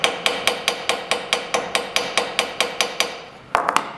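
Steady, evenly spaced hammer blows on a metal rivet during a metalsmithing class, about fourteen sharp ringing strikes close by, a brief pause, then a quick cluster of three more taps.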